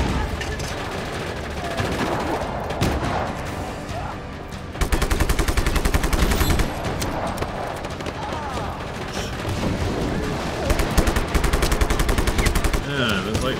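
Rapid bursts of pistol gunfire in the video game Just Cause crackle almost continuously, with dense overlapping shots and brief pauses, loud and close, with bits of voice underneath.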